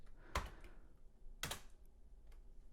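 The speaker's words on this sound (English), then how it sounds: "all you have to do is just type in the command sudo passwd -l" Two clear, sharp keystroke-like clicks on a computer keyboard, spaced about a second apart, with a faint third tap near the end, entering a Linux sudo command in a quiet room.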